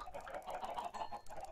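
Busy, overlapping clucking from several chickens in Minecraft, steady and fairly close, with no talking.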